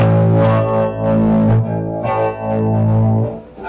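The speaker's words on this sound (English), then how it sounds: "you can play a low A and its octave at the same time" Guitar sounds a low A together with its octave, several bright, close notes ringing alone with a wavering, effected shimmer and short gaps between strums.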